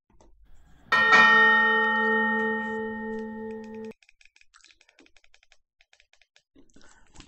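A single bell tone strikes and rings out clearly for about three seconds before stopping abruptly, followed by faint clicking like keyboard taps.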